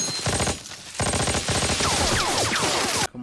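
Gunfire and explosions from a beach battle in episode 2 of the war series Band of Brothers, with dense rapid bursts of firing, ringing impacts and whizzing sounds filling the clip before cutting off abruptly at the end.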